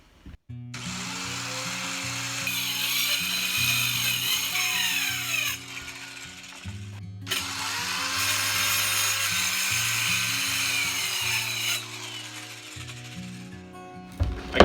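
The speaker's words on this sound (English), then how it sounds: "I'm going to use my little handheld saw here and just cut right along the edge." A small handheld power saw cuts along the edge of a wooden floor sheet to remove its tongue, a loud continuous buzzing whine in two long passes with a brief pause between, close up and without talk.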